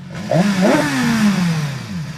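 A 2016 BMW S1000XR motorcycle engine with stock exhaust revs sharply, the pitch rising quickly and then falling away into a lower drone, loud and close.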